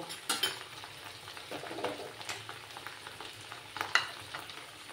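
Flat beans fry in a pan with a soft, crackling sizzle, broken by several sharper clinks and scrapes of stirring at close range, with no one speaking.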